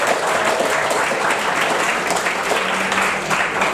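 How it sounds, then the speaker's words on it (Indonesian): Applause from an audience at a coffee-talk seminar on environmental leadership and public policy, steady and fairly loud clapping from a crowd lasting a few seconds. "Mari kita sambut dengan tepuk tangan meriah"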